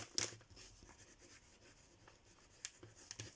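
Pen writing a name on a paper envelope, soft close scratchy strokes in short bursts with small taps, quiet and alone.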